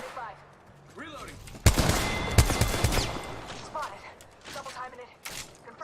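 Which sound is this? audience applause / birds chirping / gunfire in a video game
gunfire in a video game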